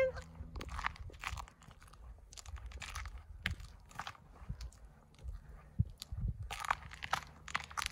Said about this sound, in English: Cows are out chewing up some hay there today.